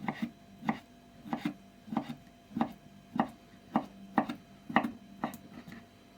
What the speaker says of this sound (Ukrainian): Беру буряк, перерізаю на пополам, половинку ще раз і ріжу соломкою.